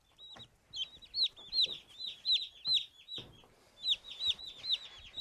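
Chicks cheep repeatedly in high, rapid peeping calls, close and fairly loud, with brief soft clucks underneath and no talking.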